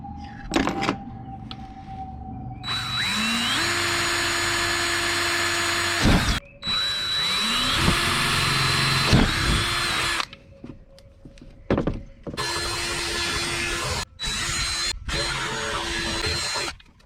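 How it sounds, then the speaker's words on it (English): A power drill boring holes for a homemade fishing bait launcher cannon, whining up in several long bursts separated by pauses and clicks, close and loud. "And to drill some holes."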